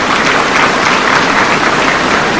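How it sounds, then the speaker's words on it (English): Dense, steady applause from a large audience fills the space at a 2023 secondary school essay competition awards ceremony at the EAC 25th anniversary event in Arusha, Tanzania, loud and unbroken with no voices above it. "Let's give them a round of applause."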